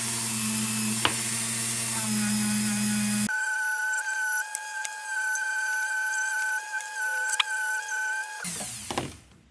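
Buffing wheel polishing a vintage Bright Star flashlight, a loud steady motor whine with a constant hum, changing in pitch as the part is pressed to the wheel, then spinning down at the end.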